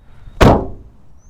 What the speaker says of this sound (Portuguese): Para quem gosta de barulho de porta batendo, eu vou até chegar bem pertinho com o microfone para vocês escutarem.